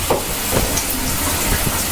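Hot water runs in a steady broadband rush from a newly installed faucet during a home remodel, continuous and close with no talking.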